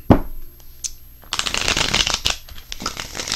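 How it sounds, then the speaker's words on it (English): Tarot cards being laid out and shuffled on a table during a reading, with a sharp slap at the start and then a dense run of close, papery card shuffling and sliding. "let's put the rest of the cards down"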